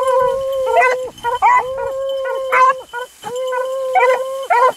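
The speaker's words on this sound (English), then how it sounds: "There was two dogs there, Smitty and Cooter both, I think." Beagles on a rabbit hunt bay and howl in long drawn-out bursts, several loud, close cries repeating with short pauses between them.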